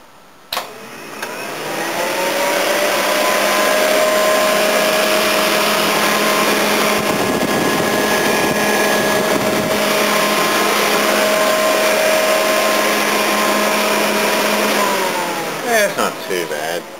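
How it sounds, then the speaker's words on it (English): A Volvo's radiator cooling fan, run with no radiator fitted, spins up and holds a loud, steady whirring drone with a constant tone, then winds down at the end. "figured I'd test run this fan now and just see what exactly it does without the"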